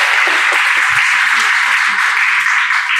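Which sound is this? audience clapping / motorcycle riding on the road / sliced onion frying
audience clapping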